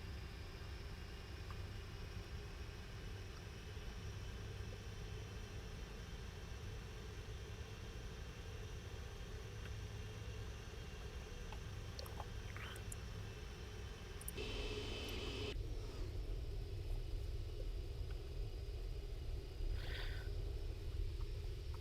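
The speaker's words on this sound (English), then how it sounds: "Even with 4 engines, requires a decent amount of power to actually get it moving." Four-engine PMDG Boeing 747 in a flight simulator game, taxiing as power is added: a steady, continuous engine rumble and whine with a faint brief burst of added noise midway, no talk.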